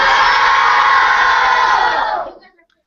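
A classroom of children screaming hello together, a loud, dense burst of young voices that holds steady for about two seconds and then cuts off abruptly.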